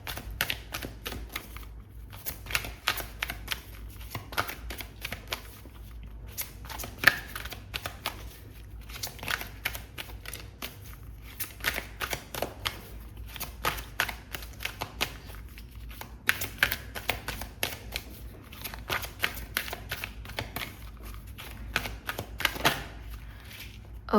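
Tarot cards are handled and shuffled close up in long runs of rapid papery riffles and flicks, with brief pauses between bursts and a faint voice at times.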